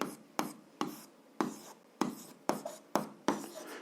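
A pen scratches across paper in short, regular strokes while an algebra exercise is written out, each stroke starting with a soft tap, close and clear, with no voices over it.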